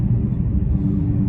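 Deep, steady low-frequency exhaust rumble from a 2017 Dodge Challenger Hellcat, loud and continuous with no talk over it.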